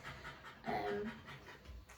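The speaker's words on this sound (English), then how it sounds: "He's still puffing and panting away." A dog pants steadily during a grooming session with a blueberry facial, a quick, soft, close rhythm of breathy puffs that stays faint throughout.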